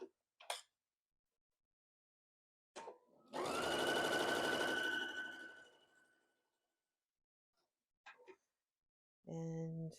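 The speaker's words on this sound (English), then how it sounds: "put this one on top like this, and just keep sewing" A sewing machine runs a burst of about three seconds while chain piecing quilt pieces. Short clicks and handling noises fall before and after, with a brief voice at the end.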